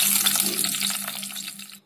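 About a cup of water is poured into a cooker holding stuffed brinjal and potatoes with a peanut-powder masala. A short, steady, close splashing pour lasts under two seconds and then stops.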